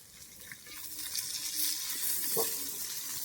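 Steady broadband sizzle of fish frying in hot oil, with a few faint clinks and splashes rising briefly over the crackle.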